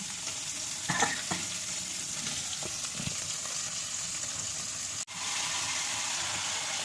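Fish frying in oil in a pan on a home kitchen stove, a steady sizzle and crackle throughout with a few louder spits and stirring clatters, close and fairly quiet, one sharp click near the end, no talking.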